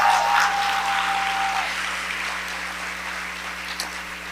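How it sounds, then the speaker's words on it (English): Audience applause at a black-tie charitable foundation gala, a broad wash of clapping that starts fairly full and gradually thins and fades over several seconds, with no voices over it. "So we need to give a big round of applause to Lorna"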